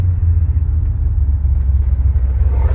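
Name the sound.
1989 GMC Sierra C3500 dually 502 V8 engine driving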